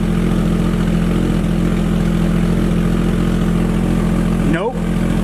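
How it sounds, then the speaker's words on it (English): A used Jeep engine idles with a steady, droning rumble throughout, close and loud, with a brief dip in the sound near the end. "I couldn't really talk when the engine was running"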